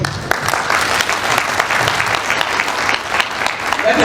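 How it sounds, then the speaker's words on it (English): An audience at a public address claps together in sustained, dense applause, loud and steady for several seconds with no speech over it. "I want to start by asking all of us to clap to God."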